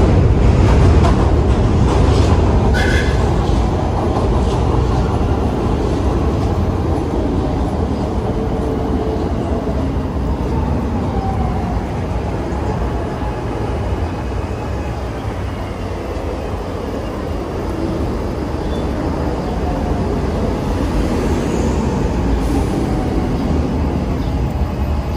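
A train passes at the Berks elevated stop in Philadelphia's Norris Square area, a loud, continuous roar with steady rumbling and clatter that slowly eases while staying heavy throughout.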